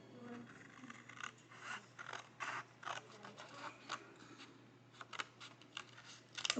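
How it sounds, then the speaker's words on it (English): Scissors snip through a Dollar Tree note card in a run of quick, faint, crisp cuts heard up close in a quiet room. "what I'm going to do is I'm going to cut off in the center here."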